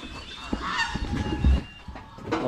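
Farm ducks in their pen honk loudly in a series of harsh, nasal calls, close by and uneven in rhythm, with no speech.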